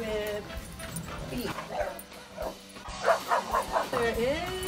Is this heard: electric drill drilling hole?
no